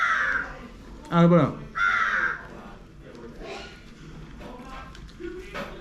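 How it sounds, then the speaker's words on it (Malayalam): Crows perch nearby and caw in a few harsh, loud bursts near the start, followed by fainter calls and light tapping while a person speaks briefly. "കാക്കൊക്കെ വന്നിരുന്നിട്ട് ഒച്ച ഉണ്ടാക്കേണ്ടി ഇരുന്നിട്ട്"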